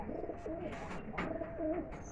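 Pigeons coo softly in a small backyard pigeon loft, several low warbling calls overlapping close by, with faint rustling and brief chirps in the background.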